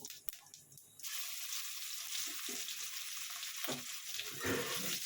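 Chopped onions drop into hot oil in a pan after cumin seeds, bursting into a loud, steady sizzling hiss after a brief quieter moment with a few clinks.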